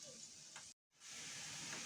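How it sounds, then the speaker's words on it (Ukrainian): Steady sizzling of mushrooms and onion frying in a pan, briefly cut off for a moment before the hiss resumes, close by. "Поки в нас смажаться наші грибочки із цибулькою"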